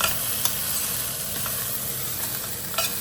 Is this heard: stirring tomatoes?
yes